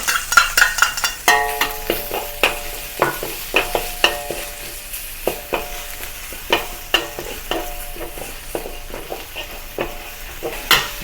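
Garlic sizzles in hot oil while being stir-fried for Chinese longevity noodles. A steady frying hiss runs throughout, with sharp, rhythmic scrapes and clacks of a spatula against the pan about every half second, close and clear.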